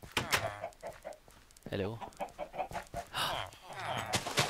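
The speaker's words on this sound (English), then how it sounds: "Since I have all these chickens here." Minecraft chickens cluck repeatedly in quick bursts at close range, mixed with a brief spoken greeting and other game sounds.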